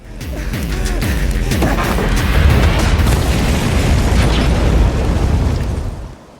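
A loud, sustained explosion booms and rumbles for several seconds, then fades out abruptly.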